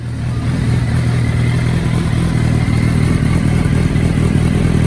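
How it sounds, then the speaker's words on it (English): A Gen 2 Suzuki sportbike engine idles while warming up before an oil change, a loud, close, steady low rumble with a continuous mechanical clatter and no change in pace. "I like to heat the motorcycle up one more time as well."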